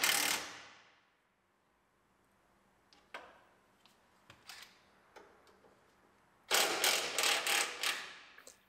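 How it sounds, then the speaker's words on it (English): A ratchet tightens the bumper bracket bolts at the back of a 2019 GMC Sierra Denali pickup, giving scattered sharp mechanical clicks that end in a louder run of rapid ratcheting, with no voices. "So now we can tighten up those bumper brackets in the back."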